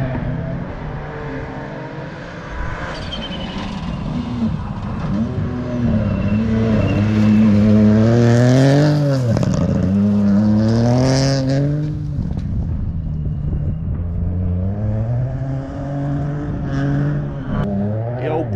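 Rally cars on a stage at Rally Whangarei in New Zealand approach and blast past one after another, engines rising and falling through loud revving and gear changes, with brief tyre squeal.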